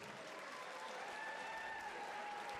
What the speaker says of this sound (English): let's have a warm round of applause for these two fighters